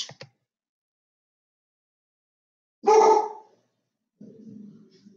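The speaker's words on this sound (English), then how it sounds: "My dogs are barking at the landscapers" Dogs bark at landscapers outside, heard as one short sharp bark at a distance, then a lower rougher bark-growl after a long quiet gap, fairly faint overall.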